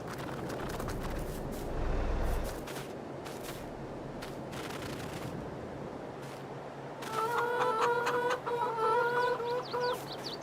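Chickens clucking in the Farming Simulator 22 video game on the Big Flats Texas map, a busy run of clucks and squawks rising over low background noise in the latter part.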